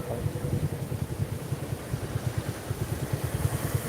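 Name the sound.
CNG auto-rickshaw engine on flooded road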